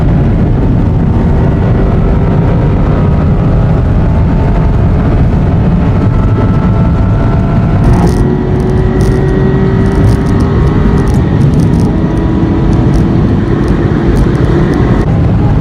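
An Aston Martin runs at speed on the Bonneville Salt Flats, with a loud, steady engine drone and rushing wind throughout, its pitch climbing slightly partway through as it keeps accelerating.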